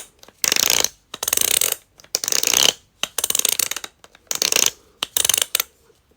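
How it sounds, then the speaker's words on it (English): A large plastic fidget palm roller toy is twisted in short bursts, giving a string of rapid clicking, ratcheting rattles with brief pauses between turns, close and fairly quiet. "So this is the largest palm roller. This is what it sounds like when you twist it."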